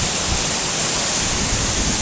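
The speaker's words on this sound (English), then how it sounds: "we're underneath the waterfall" Heard from right underneath Silver Falls, the waterfall is a loud, steady, dense roar of crashing water. It fills the whole clip without letup and without any talk.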